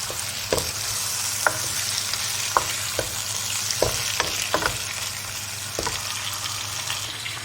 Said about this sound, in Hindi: वो डालेंगे और उसको अच्छी तरह भूनेंगे।